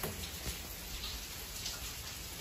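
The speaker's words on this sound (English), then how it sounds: "it's raining. I love the rain." Rain falls steadily in Shikinaen garden, the former Ryukyu royal villa in Naha, Okinawa, a dense even hiss of drops with occasional louder patters nearby.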